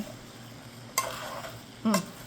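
A spoon stirring a peach and blueberry cobbler mixture in a bowl, two short scraping strokes with soft sizzly texture between them, close and fairly quiet, with no talking.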